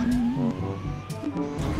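An ambulance siren in the GTA video game, a loud close wail sweeping up and down in pitch over vehicle engine noise, lasting under two seconds.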